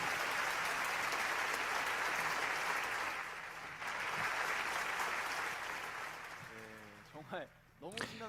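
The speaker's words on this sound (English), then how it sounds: "Let us give another round of applause to the IAYSP team for their exciting" Audience applause after a performance, dense and steady clapping that gradually dies down, followed by a brief voice over a few scattered final claps.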